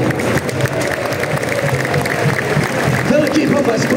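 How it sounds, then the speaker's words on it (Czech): A stadium crowd at a trophy presentation claps steadily for the AC Sparta Praha staff, a dense, even wash of applause and murmur with some talk mixed in. "každý si zaslouží váš potlesk"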